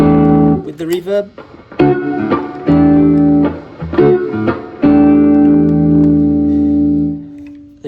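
Electric guitar notes and chords through a plate reverb pedal set to the plate setting ring out bathed in smooth reverb, the final chord sustaining long and fading gradually into a lingering tail.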